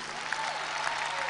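A church congregation at a Pentecost conference applauds in a steady, diffuse wash of many hands, moderately loud with a faint hum underneath and no clear speech.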